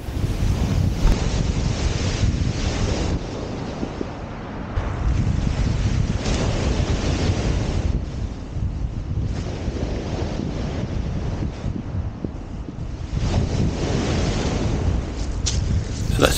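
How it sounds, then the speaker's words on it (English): Wind blowing steadily at a seaside promenade in Seaford, gusting in rough waves against the microphone with surf-like rushing underneath, constant and fairly loud throughout. "There's a little bit of wind today"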